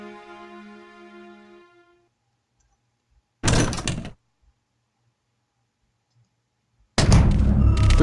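Door opening in the Resident Evil 3 PlayStation game: a fading musical tone, then silence, a short loud creaking sweep, another pause, and a second heavy, sustained opening sound, with no talking.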